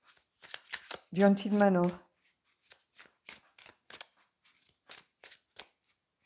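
Oracle cards are shuffled and drawn in a run of quick, close, crisp papery flicks and snaps, with a short spoken phrase near the start.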